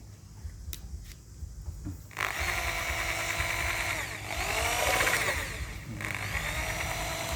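A power drill fitted with a mixer whirs close by in long, steady runs, its pitch rising and falling as it spins through thick paint.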